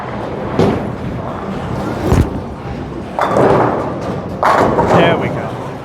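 Motiv Onyx bowling ball rolled down a heavy-oil lane: a steady rolling rumble with a few dull thuds, then a louder crash of pins near the end, in a reverberant alley.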